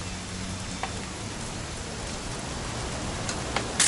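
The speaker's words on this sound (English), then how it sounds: "It's gonna rain the whole weekend" Steady rain falls throughout, a dense, even hiss of drops on surfaces with a few sharper patters near the end and no voices.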